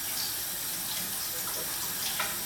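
Cut potatoes are rinsed under a running kitchen tap, a steady close splash of water with small shifts as the pieces are moved, and no talking.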